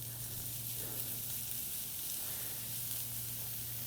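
Zucchini noodles sizzle steadily in hot oil in a skillet, a continuous, fairly quiet frying hiss with no one talking.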